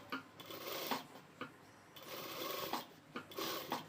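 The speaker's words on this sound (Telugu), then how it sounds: "ఇప్పుడు మళ్ళీ దాని పైనుంచి మనము అనుకుట్టు ఒకటి వేసుకోవాలి" A sewing machine runs in quick, clattering bursts while stitching the back piece of a blouse, the rhythmic mechanical tapping rising and pausing several times at close range.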